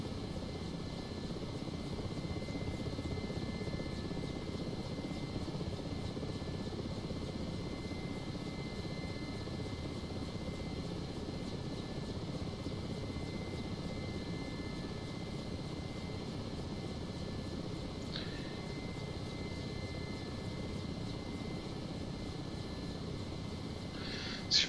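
A Mi-8 helicopter descends to land in a flight simulator game, giving a steady, even rotor and turbine drone that stays low and unchanging throughout, with no talk.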